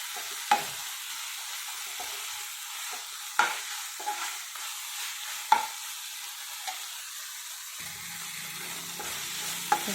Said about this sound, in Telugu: ఇప్పుడు ఇది కూడా బాగా ఫ్రై అవ్వాలి